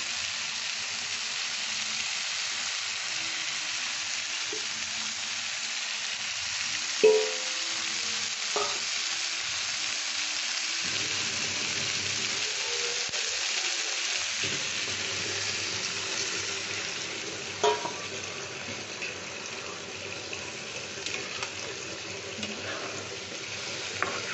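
Water poured into a pan of hot oil for an egg and cauliflower curry sets off a steady, fairly loud sizzle that carries on throughout, broken by occasional clinks and stirring sounds.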